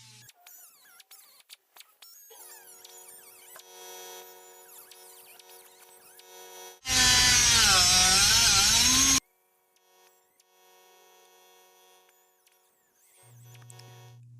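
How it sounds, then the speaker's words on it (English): Astro cutoff wheel slicing through rusted metal on a vehicle cab's rocker area, a loud continuous high-pitched grinding shriek lasting a couple of seconds between quieter handling noises. "Now we'll use our Astro cutoff wheel and we'll just cut this metal."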